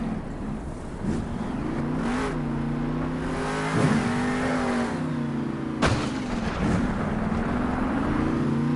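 Monster truck engine at a Monster Jam stadium show in Anaheim roars and revs continuously through a stoppie moonwalk, pitch rising and falling with throttle, loud and close with arena crowd noise and brief bursts underneath.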